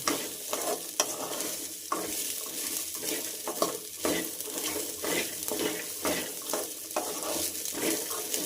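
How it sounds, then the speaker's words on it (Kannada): Corn kernels frying in ghee over a medium flame, a continuous close sizzle broken by repeated scraping strokes of a spoon stirring against the pan. "ತುಪ್ಪದಲ್ಲೇ ನೀಟಾಗಿ ಫ್ರೈ ಆಗುತ್ತೆ ಜೋಳ ಎಲ್ಲ, ತುಂಬ ನೀಟಾಗಿ ಫ್ರೈ ಆಗುತ್ತೆ"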